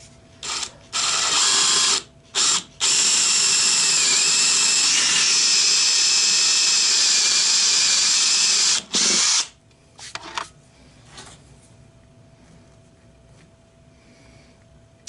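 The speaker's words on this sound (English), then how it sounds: "Just going to drill in a little bit for that." A power drill whines loudly in several bursts, with one long sustained run boring into a wooden hollow-form vessel on a lathe, then stops, leaving quiet room tone.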